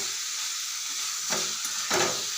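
Fried cauliflower and potato stirred in a pan of fish curry, a steady broadband sizzle with two brief scraping stirs near the end, close and alone.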